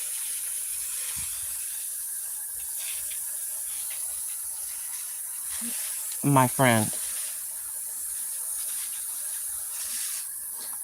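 A garden hose sprays water onto dry soil around vegetables such as corn and potatoes, giving a soft, steady hiss throughout. A voice speaks briefly midway.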